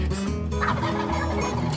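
Wild turkey gobbling outdoors in the Kentucky spring, a loud, rapid, rattling gobble close to the microphone, then a second burst over steady outdoor background with no talking.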